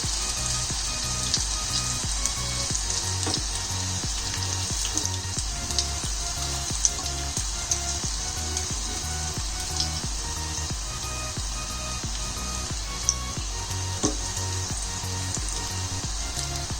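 Crispy onion rings fry in hot oil, giving a continuous close bubbling sizzle with faint crackles throughout and no voices.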